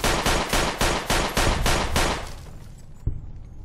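Rapid shotgun blasts in a first-person shooter video game: about ten loud, evenly spaced booming shots in quick succession, then a pause and one more sharp report, with no talking over the firing.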